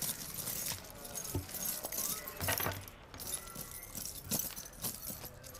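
Bike keys jangle and clink close by in a few light, scattered bursts, with quiet gaps in between.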